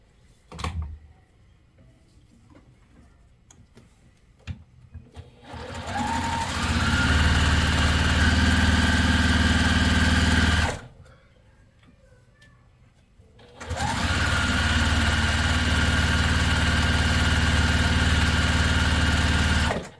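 A sewing machine stitches a quilt block piece in two long, sustained runs, a loud close motor hum with a rapid needle clatter, separated by a short quiet pause.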